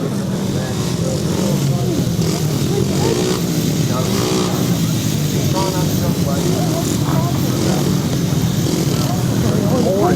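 Intermediate-class grasstrack racing motorcycles rev loudly and continuously before a race start, engines rising and falling together, with a public-address voice talking over them.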